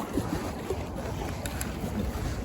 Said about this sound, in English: The paddle throws a little water when you're paddling.